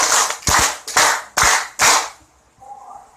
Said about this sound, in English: Let's give her a 5 round of applause.